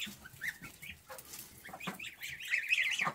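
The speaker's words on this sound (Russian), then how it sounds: "Гусята под уткой." Goslings being brooded by a duck on a farm, with soft, repeated peeping and clucking fowl calls near at hand, rising in brief bursts through a quiet background.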